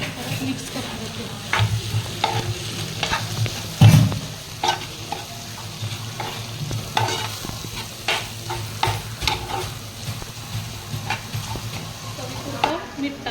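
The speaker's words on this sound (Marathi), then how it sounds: "काश्मीरी मिरची पावडर, थोडासा घरचा मसाला, परत मिक्स करून घेते." Kashmiri chili powder and a homemade spice mix are stirred in a hot pan, giving a continuous sizzle with repeated scraping strokes and one louder clatter early on; no talking.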